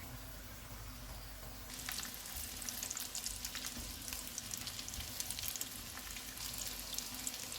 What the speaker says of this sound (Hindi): अब हम चूल्हे को मीडियम कर देते हैं और गोल्डन ब्राउन होने तक इनको पकाएंगे।